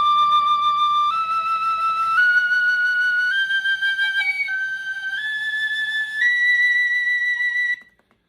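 A tin whistle plays on its own, stepping upward through about seven clear sustained notes, each pitched higher than the last, before cutting off.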